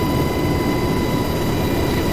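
UH-60 Black Hawk helicopter engine in the DCS World flight simulator on the Syria map, a loud steady turbine drone with a low rumble and faint high whine, no talk.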